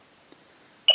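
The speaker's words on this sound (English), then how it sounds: "You hear a beep, you press it again" A Luke Skywalker Return of the Jedi replica lightsaber gives one short, bright electronic beep from its auxiliary button during sound font selection, sounding alone after near silence.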